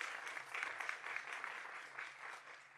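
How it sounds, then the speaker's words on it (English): Brief applause from an audience at an event on an inclusive future of AI, a dense patter of clapping that holds steady then thins slightly. "maybe a little applause would actually be indeed be super very."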